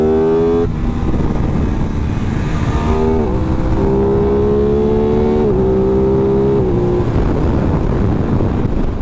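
An Aprilia RS 660 sport motorcycle engine at riding speed, its steady loud drone shifting in pitch as the rider changes gears, with heavy wind rush throughout.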